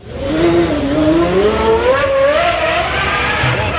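A loud high-performance engine revs up, its pitch climbing steadily over a few seconds, close and sustained.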